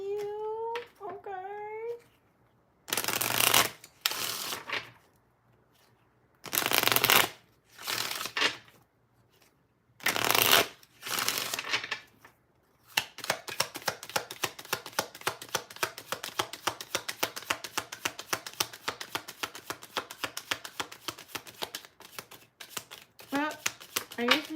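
A deck of tarot cards is shuffled: several loud, separate bursts of card handling come first, followed by a long, fast riffle of rapid crisp clicks. A faint voice is heard briefly at the start.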